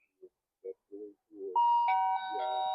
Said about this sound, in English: That's the bell right there.